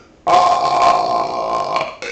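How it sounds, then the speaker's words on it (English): One long, loud, close burp lasting nearly two seconds, rough and sustained, with no talking. "Burp."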